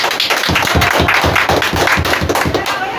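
A group of men in an audience claps loudly and steadily, their claps landing in a quick, even rhythm for the whole stretch.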